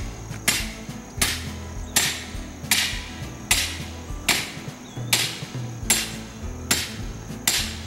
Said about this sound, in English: I can't hammer like that, though.